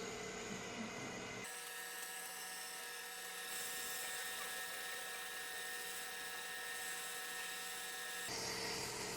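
Sandpaper and Scotch-Brite are pressed against a wooden finial spinning on a lathe, over a steady, high-pitched whine from the machine. The sanding rises and eases in pressure, with no talking.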